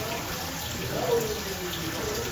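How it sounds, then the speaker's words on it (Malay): Hot spring water flowing out of an outlet at a private hot spring at an eco farm campsite, a steady close rushing and splashing stream that stays constant throughout. "Tu dia punya tempat air keluar dia."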